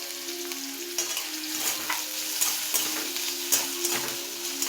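Onion and tomato stirred in a hot pan, a steady sizzle of frying under repeated scraping strokes of a spoon against the pan, close and fairly loud, with no talking.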